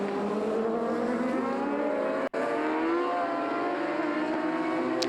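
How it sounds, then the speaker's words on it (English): A Dallara single-seater race car with a motorcycle engine in the back, in a Monoposto race at Donington, screams past with a high, sustained engine note and rising harmonics through the gears, loud and close, with a brief gap mid-way. "Martin at the wheel of a Dallara with motorcycle engine in the back"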